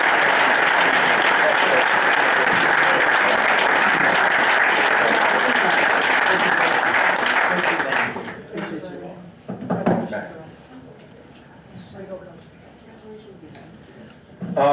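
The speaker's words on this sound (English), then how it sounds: "How about a nice round of applause for our girls in New York State?" Audience applause at a school board of education meeting, sustained loud clapping for about eight seconds that cuts off into a quieter room with scattered thumps and shuffling.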